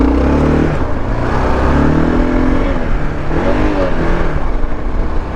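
A Kawasaki KLR 650 dual sport motorcycle revs hard while sliding on a red dirt beach on Prince Edward Island, with loud, close engine surges rising and falling in pitch over a rough rumble.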